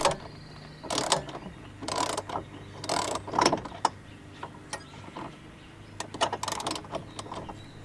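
A ratchet tightening 13 mm bolts on a SunTop Cargo Top fitted to a Jeep Wrangler, with bursts of rapid close clicking strokes repeated in a steady rhythm.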